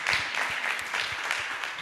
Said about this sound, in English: I would like to ask for a very big round of applause for the